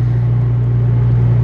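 A car is driving, heard from inside the cabin as a loud, steady engine hum and road rumble, continuous with no break.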